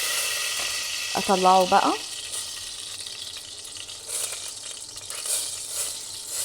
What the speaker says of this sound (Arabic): هخليه يتحمر الفلفل وارجع لكم علشان ما اطولش عليكم